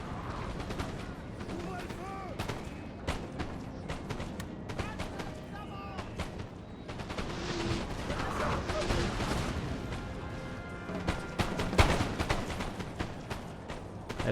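Cannon and musket fire from a Napoleonic battle in the strategy game Napoleon Total War, with repeated booming blasts and sharp cracks crowding a dense, rumbling battlefield din, while someone talks over it.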